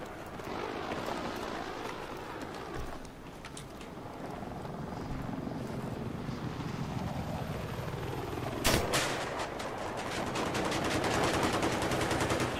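Battlefield 3 gameplay carries continuous rattling gunfire and bursts of shots over a dense bed of battlefield noise and engine drone, with one sharper blast midway.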